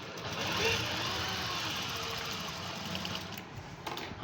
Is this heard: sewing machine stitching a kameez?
yes